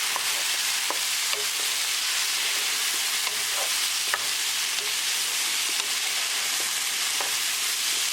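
Kabocha squash (Japanese pumpkin) stirred in a pan over medium gas, a steady sizzle and hiss running throughout with a few scattered scrapes and clicks of the spoon, alone with no voices.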